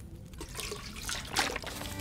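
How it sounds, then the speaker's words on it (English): Splashing, trickling water as toilet water is drunk in The Long Dark, a soft liquid gurgle with a brief brighter slosh near the end, fairly close and alone. "Are we about to chug some toilet water?"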